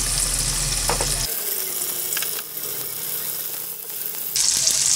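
Tofu stuffed with minced dace fish sizzles as it browns in a pan, a loud, close crackle that briefly drops in intensity midway before rising again, with a low hum early on.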